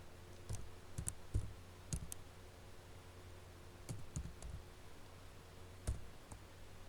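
Scattered key clicks on a computer keyboard come in short irregular groups, faint and close over a low steady hum, with no talking.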